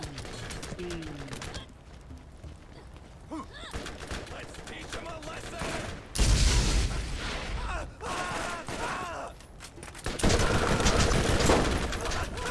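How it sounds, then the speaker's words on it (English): Grenade explosions and bursts of gunfire in the Borderlands co-op shooter, with two loud, sustained barrages standing out after quieter stretches and people talking over the action. "It's just everything explodes. Yep. Grenades. Nades for days."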